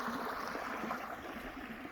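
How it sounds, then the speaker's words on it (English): Water flows through a rock weir into a pond in an incised gully, a steady, soft rushing and trickling wash heard faintly at some distance without pause. "it'll take the pace out of this water coming through"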